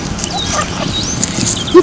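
A young puppy being trained for prey drive gives thin, high whimpers and whines over a close, noisy background, with a short louder bump at the end.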